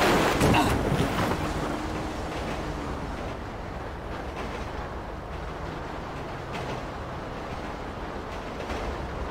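A train in the GTA 5 video game rumbles along steadily with a broad wash of rolling noise and wind, continuous throughout, opening with a brief louder burst.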